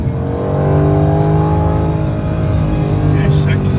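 A Dodge Challenger Redeye or Mustang GT500 accelerates hard in second gear without upshifting, its loud engine drone heard from the cabin as a sustained rising tone, with some faint road noise.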